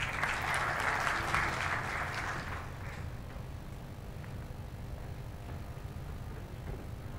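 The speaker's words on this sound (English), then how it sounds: "Give him a good applause" An audience at a maritime economics conference plenary session claps loudly for a few seconds, then the applause fades to a softer, steady patter with room murmur.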